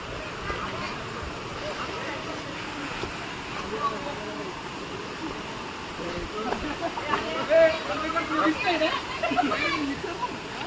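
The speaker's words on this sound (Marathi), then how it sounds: "आणि एकदम ब्युटिफुल वॉटरफॉल आहे" Water rushes steadily at Bhaskar (Umbarde) waterfall near Nashik, a continuous broadband roar with splashing, and a babble of people's voices mixes in over it throughout.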